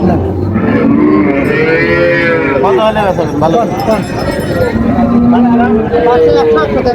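Cows and calves lowing several times amid a busy crowd of people talking nearby at a livestock market in Raniganj, Dinajpur.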